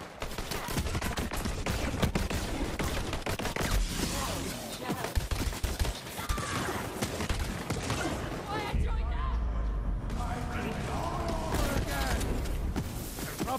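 Gunfire in the shooter game Borderlands 3, sustained rapid bursts and volleys of shots layered with mechanical clatter, loud and nearly continuous, with a voice talking over the shooting at times.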